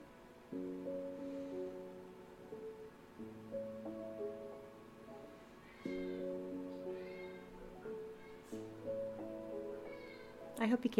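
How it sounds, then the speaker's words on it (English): House cat meowing in the background indoors, with several short, faint cries rising over a steady tonal backdrop. "I hope you can't hear my cat in the background"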